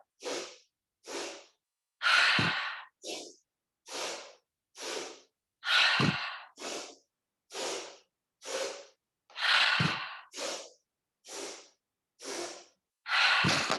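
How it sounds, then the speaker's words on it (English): A breathing exercise of repeated sharp sniffing inhales through the nose, broken up by longer sighing exhales, in a steady rhythm close to the microphone. "Inhale, inhale, inhale, inhale, inhale, inhale, exhale."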